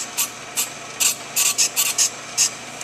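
A brake lathe bit scrapes the outer lip off a brake rotor in short, bright rasping bursts, about ten quick grinding passes with brief gaps between them, close and fairly loud.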